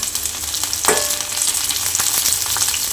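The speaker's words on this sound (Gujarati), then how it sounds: "કેપ્સિકમ મરચાંને આ રીતે થોડા સાતળી લઈએ" Capsicum chillies sauté in hot oil in a pan, giving a steady, bright sizzle with a brief stir or clatter partway through, close and loud with no voices.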